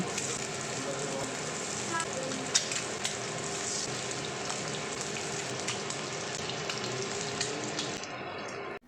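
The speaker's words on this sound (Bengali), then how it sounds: "ডিমগুলো আমি ভেজে নিচ্ছি" Eggs shallow frying in hot oil in a pan, a steady close crackling sizzle that runs evenly throughout and cuts off at the very end, with no talking.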